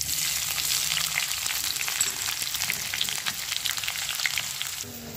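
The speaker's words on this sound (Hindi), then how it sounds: "अभी ब्राउन हो गया, अब मैं डाल दूंगी इसमें प्याज।" Onion going into mushrooms already browning in a hot pan, with cumin in the oil, producing a steady loud sizzle and crackle throughout, with faint stirring and scraping. No one speaks.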